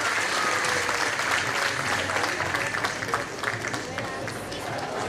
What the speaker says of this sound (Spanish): un fuerte aplauso al integrante del grupo Entre Cordilleras